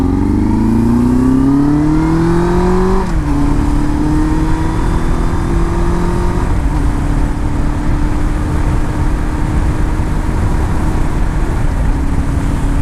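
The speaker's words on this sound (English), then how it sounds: "the Yamaha FZ1 has an R1 motor in it" A Yamaha FZ1 motorcycle with an R1 engine revs loudly and close, its pitch sliding down then settling into a steady, throaty idle that continues alone.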